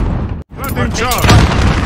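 Gunfire and booming blasts in Call of Duty Modern Warfare Warzone, loud and close, cutting out briefly before resuming with sweeping whooshes and a voice speaking over the battle noise.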